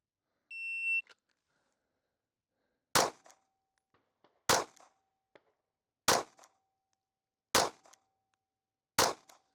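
Five handgun shots fired from the draw during a police qualification drill, each a sharp, loud crack spaced about one and a half seconds apart, preceded by a brief electronic start beep, with quiet gaps between.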